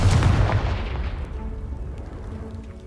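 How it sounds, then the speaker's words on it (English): A Confringo blasting spell from Hogwarts Legacy strikes a pile of debris blocking a stairwell, giving one loud, deep boom at the start that rumbles and fades away over a few seconds. "Is it blocking something? Only one way to find out. Confringo!"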